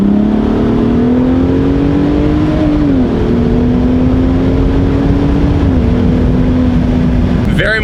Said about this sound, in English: Let the turbos spool.